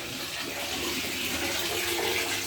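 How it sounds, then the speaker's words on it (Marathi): Water pours steadily into a bucket in a home, a continuous rushing splash at even loudness throughout, with no voices heard. "पाणी भरलेलं आहे बादलीमध्ये, थांबा."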